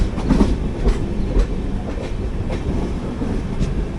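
Mandovi Express train from Madgaon to Mumbai, heard from inside an AC 3-tier coach: loud continuous rolling rumble with regular rhythmic clickety-clack wheel beats over rail joints, no talk.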